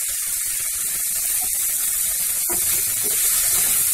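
Chopped vegetables for vegetable bonda, including finely cut carrot and cabbage with turmeric, sautéing in a pan, giving a steady close sizzle with scattered scraping stir clicks throughout and no talk.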